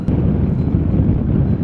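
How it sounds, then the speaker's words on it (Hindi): Strong wind at an artificial mountain lake in Auli roars loudly and steadily, a dense low buffeting rush hitting the microphone with no voices. "अरे अरे अरे इतनी तेज हवाएं"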